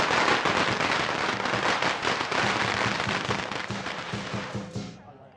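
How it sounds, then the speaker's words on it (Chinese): A long string of firecrackers goes off at a traditional wedding procession, dense rapid crackling bursts filling the air continuously, loud and close, before stopping abruptly near the end. "现在放鞭炮。"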